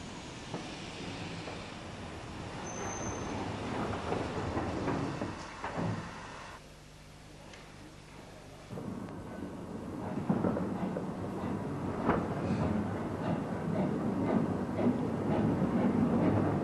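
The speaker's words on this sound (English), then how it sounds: "The Ginty, once again united with its train, steams into the station to collect its first group of passengers" Steam locomotive The Ginty pulls its train into Oxenhope station on the Keighley and Worth Valley Railway: a steady rumble with rhythmic clanks and hisses, easing briefly to a quieter stretch before swelling again close by.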